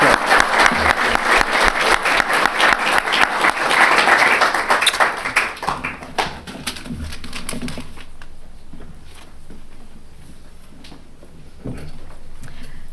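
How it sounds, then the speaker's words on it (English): An awards ceremony audience breaks into loud, dense applause that fades after about six seconds into scattered claps and room noise. "But I want to have her applause."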